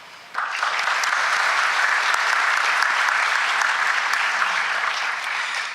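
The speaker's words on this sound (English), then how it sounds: "I still want to applaud them as well." A large crowd at an awards ceremony breaks into sudden, full applause that holds steady and dense throughout, then tapers slightly at the end.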